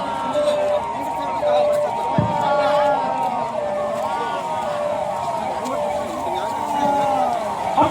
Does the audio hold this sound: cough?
no